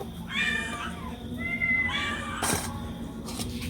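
Several cats meow at feeding time while fish is offered, with three or four drawn-out, close meows in quick succession over a soft background hum, and a clatter near the end.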